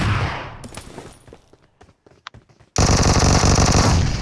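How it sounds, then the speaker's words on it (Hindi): A machine gun in the mobile shooter BGMI fires rapid bursts at the start, then a few scattered single shots, then a long loud continuous volley close by that runs to the end. "भाई इसकी मशीन गन रुक नहीं रही है"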